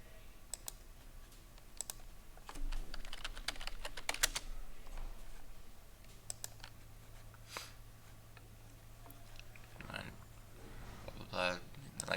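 Clicking on a computer keyboard comes in scattered bursts of keystrokes over quiet room tone, with a voice talking over it.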